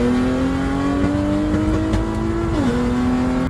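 A car engine on a Q50/Q60 with a Walbro fuel pump and fuel-cut trouble holds a loud steady drone near the microphone. The pitch climbs slowly and then drops suddenly near the end, with no talking.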